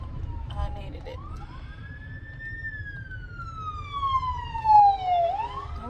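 An ambulance siren wails as it passes on a street, rising and falling tones sweeping down as it moves off, moderately loud over low traffic rumble.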